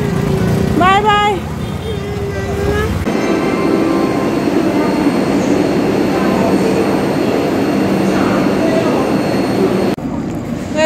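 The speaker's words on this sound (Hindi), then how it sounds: "आगे फाटक लगा हुआ है और ट्रेन आ रही है। अरे तो वह वंदे भारत आ रही है भाई" A Vande Bharat train passes a level crossing, a loud sustained rushing roar with a horn-like tone near the start, heard close by in rainy conditions while someone talks over it.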